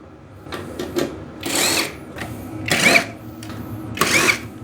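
A 1/4-inch nut driver backs screws out of an Arctic Cat Kitty Cat snowmobile. The close whirring bursts are brief and repeated, with a faint squeak on some of them and no talking.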